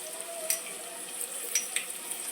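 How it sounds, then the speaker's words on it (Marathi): Onion sautéing in a pan for a green chicken gravy with a soft, steady sizzle and a few faint clicks of stirring, quiet and close with no voices. "कांदा परततोय"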